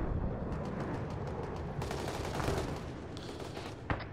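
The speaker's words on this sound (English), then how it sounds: "we're taking a lot of accurate fire" Distant sustained gunfire from a military shooter game crackles in overlapping volleys under a steady battlefield rumble, with a few sharper nearer shots standing out toward the end.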